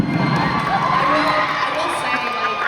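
Audience at a Hazbin Hotel convention panel cheering and whooping loudly, a dense sustained crowd roar with scattered shouts lasting throughout.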